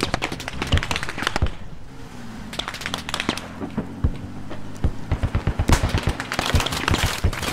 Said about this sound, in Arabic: علينا رمي علينا؟